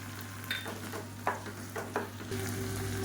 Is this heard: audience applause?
no